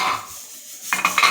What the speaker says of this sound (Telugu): ఖాళీ ప్లేట్ ఒకటి పెడతాను అట్లా.